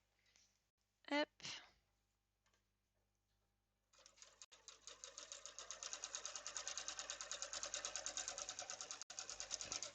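A domestic sewing machine stitching trousers, starting after a few brief bumps and a short burst and then running in a fast, even mechanical rattle for about six seconds, close and fairly loud.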